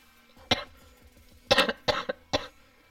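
Several sharp coughs from a person, one isolated burst followed by a tight cluster of three to four coughs and a final cough, fairly close and clear against a quiet background with no talk.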